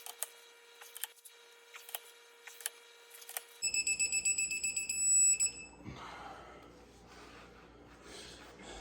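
A torque wrench setting a Ford 8.8 ring gear to 100 foot-pounds: quiet clicks and taps, then a series of sharp electronic beeps, followed by faint workshop handling noise and breath.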